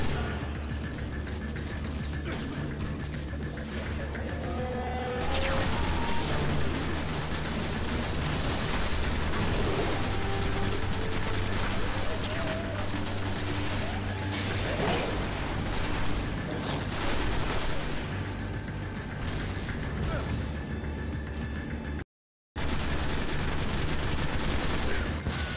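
Sustained gunfire and battle noise in the sci-fi shooter Destiny, dense and continuous at steady loudness, with a brief silent gap near the end.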